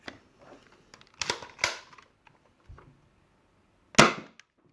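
3D printed Platypus Nerf blaster firing foam darts through a chronograph, several sharp, close snaps spaced apart, with quiet handling clicks in between and one loud shot near the end.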